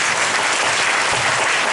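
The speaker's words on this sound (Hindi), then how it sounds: "एक बार फिर से यीशु मसीह के लिए जोरदार स्पेशल ताली बजाएंगे।" A church congregation claps loudly together for Jesus Christ, a dense, steady wash of many hands close by with no pause across the short burst.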